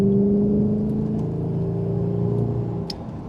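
A Jaguar XK8 engine and exhaust pulling in third gear from inside the car, a loud steady droning hum that holds then eases slightly toward the end.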